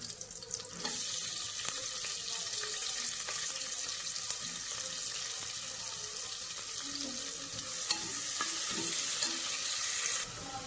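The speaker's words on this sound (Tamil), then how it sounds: "இப்போ இதில் வெங்காயம் சேர்த்துக்கிறேன்." Onions frying in a pan make a steady, close hiss with a few scraping stirs and light clatter, staying even at moderate loudness throughout, and no one speaks.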